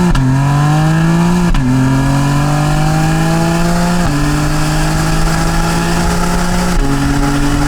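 BMW M3 CS engine accelerating hard through closely spaced gears, a loud sustained roar that climbs in pitch, drops sharply at each of three quick upshifts, then climbs again, with no talk.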